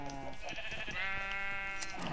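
Sheep in a farming video game bleat in a wavering, nasal call that runs steadily through the short moment, clear and close with no talk over it.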